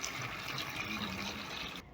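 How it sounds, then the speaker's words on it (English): Water poured into a pot of rabbit stew, a steady gushing fill that runs continuously before cutting off at the end, close and fairly quiet. "Then I'm going to add in some water."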